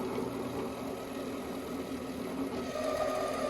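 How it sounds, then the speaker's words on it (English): A Tapmatic tapping head's clutches work steadily, giving a continuous mechanical whir with a faint knocking rhythm. The sound is close, with a constant level and no talk. "You can hear those clutches working."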